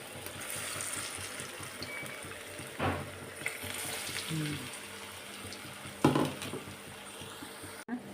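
Moong dal fritters frying in oil on low heat, a soft steady sizzle with a few brief clatters and splashes, with faint voice-like sounds in the background.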